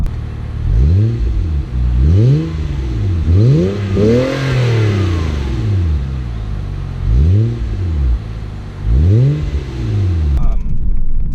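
A 2006 Mazda 6 fitted with an aftermarket MagnaFlow cat-back exhaust revs repeatedly up close. Loud, rising-and-falling engine bursts come in a steady series, with brief dips between each rev.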